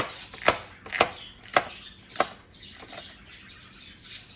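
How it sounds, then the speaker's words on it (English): A knife trims the bad ends and tops off washed garden vegetables on a board: four crisp, evenly spaced cuts, then softer, quieter handling. "all I'm gonna do is just cut the bad ends and the top"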